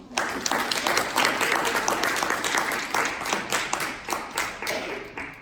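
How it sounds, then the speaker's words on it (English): Applause for a muralist at an artist talk: a modest crowd claps with distinct individual hand strikes audible, fairly close and lively, tapering slightly toward the end. "So let's give you an applause to him."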